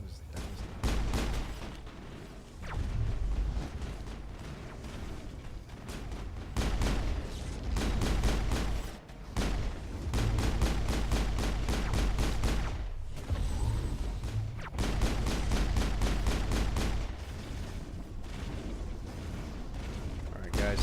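Rapid gunfire rattles through a firefight in Mass Effect, dense bursts of shots repeating in long volleys with brief pauses, loud and close, with voices talking over parts of it.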